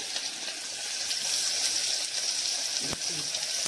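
Chopped onion drops into hot oil already seasoned with mustard seeds, cumin and asafoetida, raising a continuous bright sizzle up close, with a brief clatter near the end and faint talk beneath.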